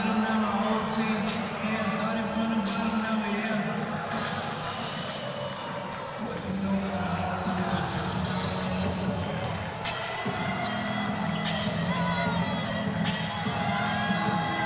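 Basketball crowd with student sections at a Class AA state tournament game between Sioux Falls Washington and Yankton, a dense, steady roar of cheering and chatter filling the arena throughout.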